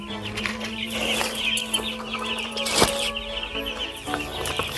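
Chicks clucking in a video game, a busy cluster of chirps and clucks close up over a steady electronic tone, with one sharp burst near the middle.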